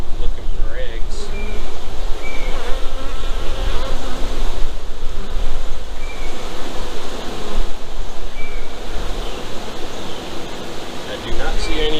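Honeybees swarm over comb cells inside an opened hive, making a dense, continuous buzzing hum that stays loud and close throughout, with no one talking over it.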